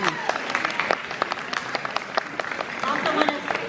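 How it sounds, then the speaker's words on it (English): An audience at a Parade of Tables event gives steady, dense applause that holds for several seconds, with a few voices mixed into the clapping. "Please give them a round of applause."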